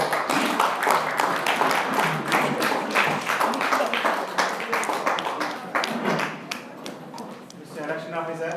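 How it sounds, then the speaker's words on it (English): Applause from an audience at a youth leadership meeting, a dense and sustained wash of clapping for newly elected officers that fades near the end as a voice begins to speak. "Let's give a applause."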